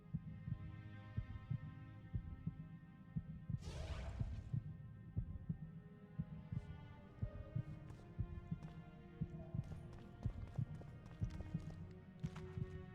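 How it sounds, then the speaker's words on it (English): Steady heartbeat effect from potions in The Witcher 2, a low rhythmic double thump repeating continuously under a game's ambient hum and faint background sounds. "Do I have to listen to this heartbeat thing the whole time these potions are running?"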